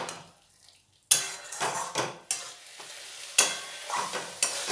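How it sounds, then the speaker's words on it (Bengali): Potato, beans and spices stirred and sautéed in a pan for a prawn curry, a soft sizzle under repeated scraping strokes of a spoon against the pan, close and fairly loud after a quiet opening second. "শিম আর মশলা খুব ভালোভাবে কষিয়ে নেব।"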